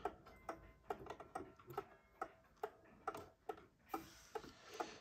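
An antique kitchen clock ticks steadily and evenly at close range with sharp, dry tick-tock beats, a faint mechanical ring on each stroke and no voices.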